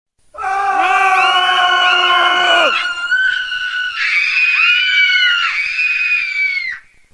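Loud, sustained screaming from several voices at once, the parents of Boyfriend and Girlfriend in a Friday Night Funkin' creepypasta, shrill and strained, held for about six seconds with no pauses.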